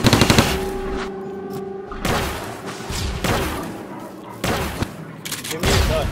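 Gunfire in the video game Perdition rings out as bursts of rapid shots and booming blasts, loud and close, with a short quieter gap and more volleys afterward.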